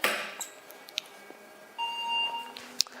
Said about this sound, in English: 1 long beep and 5 short beep